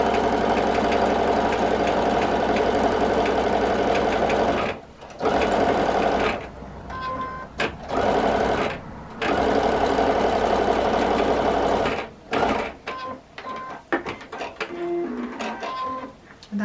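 A sewing machine stitches a Christmas quilt block, its needle chattering in a steady, fast mechanical run that stops briefly several times before starting again, then turns into short, choppy bursts near the end.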